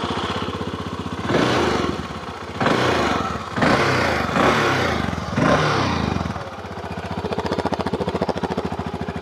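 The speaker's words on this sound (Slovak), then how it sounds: "Motor Vogue vám samozrejme aj naštartujem." A Voge 650 DSX adventure motorcycle engine cranks and catches, revving in several loud bursts before settling into a steady, rumbling idle.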